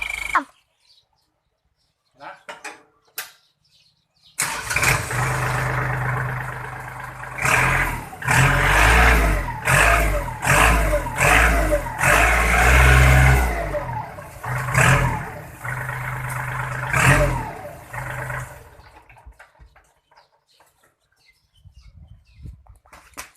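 After a few quiet seconds, a turbocharged Kubota tractor engine roars to life and revs repeatedly in surging bursts, loud and close, before dropping back to near silence.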